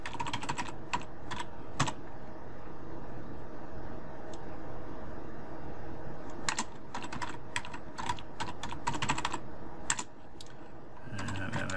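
Fingers tap on a computer keyboard while a Linux command is entered, with irregular sharp clicks in scattered clusters over a soft background hum and a louder final keystroke near the end.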